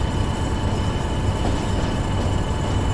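Heavy train in Train Sim World on the Northern Trans-Pennine route, a steady loud rumble of rolling wheels and engine with faint high squeals, continuous throughout with no talking.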